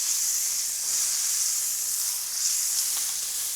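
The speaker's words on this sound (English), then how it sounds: "Flip it over a bit. Try searing the sides." A steak sears in brown butter in a hot pan, giving a steady bright sizzle that holds without a break through the whole stretch, loud and close, with faint crackles rising now and then.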